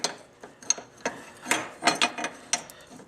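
A wrench ratcheting and clicking while tightening a loose nut on a 2003 Yamaha Big Bear ATV, with a series of short, sharp metallic clicks and clanks at an irregular pace, close by.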